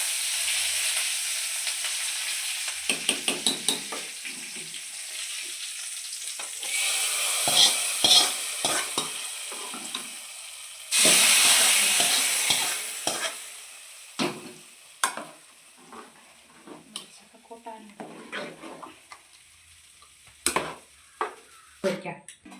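Jackfruit curry frying and being stirred in a pan: a steady sizzling hiss with repeated scraping and clattering stir strokes, louder bursts where the stirring picks up.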